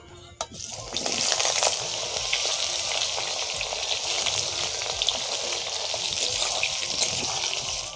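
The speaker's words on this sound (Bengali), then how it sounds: "সিদ্ধ করা এঁচোড়টা আমি এবারে ভেজে নেব।" Boiled jackfruit frying in a pan of hot oil for a Bengali echor kalia, giving a dense, steady sizzle that swells up after a brief start and carries on close and loud with no voices.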